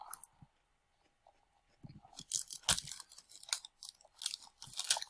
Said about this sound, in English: This watermelon is so crunchy.